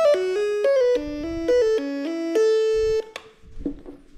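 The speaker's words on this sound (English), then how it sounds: "stylophones" Stylophone playing a short melody of buzzy, reedy stepped tones, each note held steadily with bright harmonics, ending in a fading ringing note; no voices.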